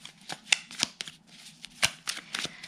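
Oracle cards being shuffled by hand, giving a continuous run of quick papery riffles and flicks with sharper snaps throughout, close and fairly clear over a low background hum.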